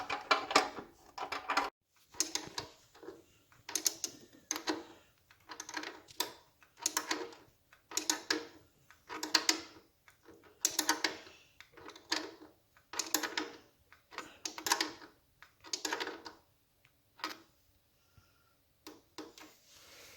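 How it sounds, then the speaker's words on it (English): Bolts being tightened on a 1975 Norton Commando Mk3 motorcycle, with a steady series of sharp ratcheting clicks in short bursts, repeated roughly every second, close and moderately loud. "So he's tightening up that side right now, and this one's next to be tightened."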